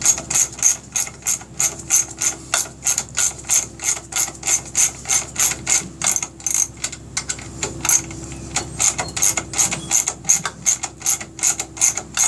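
A hand ratchet tightens bolts on a Honda Rebel starter clutch flywheel, making close, loud rapid clicking in regular back-and-forth bursts that repeat steadily throughout, with no talk.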